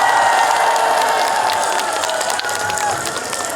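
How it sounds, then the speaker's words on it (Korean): Crowd applause at the opening ceremony of an outdoor five-day market in Taean, a dense, steady wash of clapping that holds at an even level for several seconds with no talking over it. "오늘 이 자리에 박서진 잘했다 생각하시면 큰 박수 한 번만"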